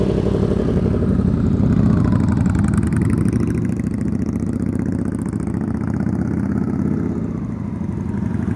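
Motorcycle engine during low-speed riding skills practice, a steady close idle-to-low-rev rumble with a fine mechanical clatter, holding fairly even throughout and easing slightly near the end.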